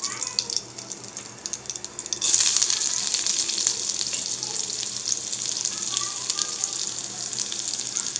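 Small onions sautéing in a pan with cumin for a baby's vegetable soup, a steady close sizzle that jumps louder after about two seconds and then holds as a continuous hiss with faint stirring.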